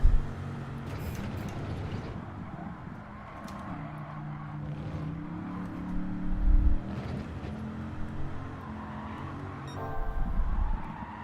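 A car engine revs in the racing game Gran Turismo 7 while the driver holds third gear to accelerate. The engine makes a steady, rough drone that rises and falls under light throttle, with no talk.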